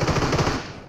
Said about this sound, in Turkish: Vurdum 9 mermi attım ha.